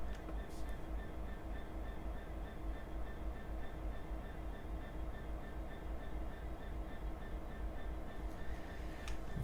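A Class 66 diesel locomotive hauls HJA freight wagons along the WCML North in Train Simulator 2021, giving a steady low engine drone with rolling rumble throughout, and a voice talks over it.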